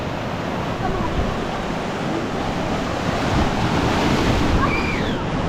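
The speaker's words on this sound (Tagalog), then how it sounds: "Yan, lakas yung alon." Strong ocean waves pounding in stormy typhoon weather, a loud, continuous roar of surf with heavy wind buffeting the microphone throughout, close and unbroken.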